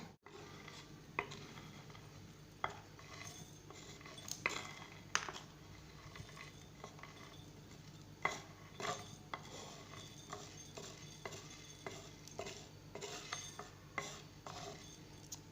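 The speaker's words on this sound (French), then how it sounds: "on a besoin d'un verre et on met les ingrédients dedans" Raisins and rice dropping into a glass, a string of small sharp clicks and taps scattered irregularly over a quiet kitchen background, close and fairly soft.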